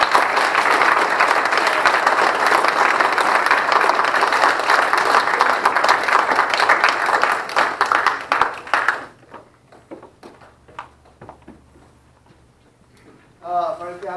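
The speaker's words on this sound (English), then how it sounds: "Audience, a round of applause." Audience applause at a Boy Scout troop Court of Honor, a dense, loud wash of clapping for about nine seconds that then cuts off, leaving faint scattered claps and room noise, with a brief voice near the end.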